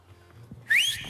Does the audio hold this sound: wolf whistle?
yes